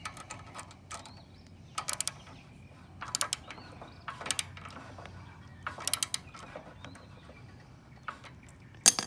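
Scattered clicking bursts of a ratchet wrench tightening a bolt on a drift trike during assembly, short sharp clusters spaced a second or two apart against a quiet room.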